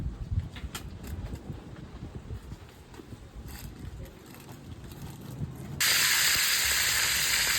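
Dinuguan cooking liquid boiling in a pot, a low churning rumble that suddenly gives way to a loud, steady steam hiss.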